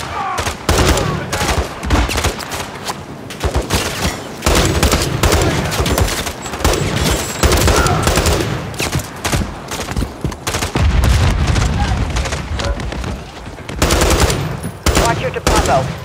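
Loud bursts of automatic gunfire in Call of Duty Modern Warfare 3, mission Highrise, come in repeated rattling volleys separated by short pauses, close and forceful.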